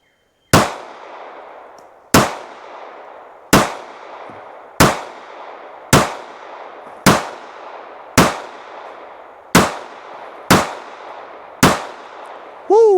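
Ten sharp, loud pistol shots from a Ruger LCP MAX pocket pistol firing Underwood ammunition, spaced about a second and a half apart, each with a quick decaying ring, followed by a brief tonal clink at the end.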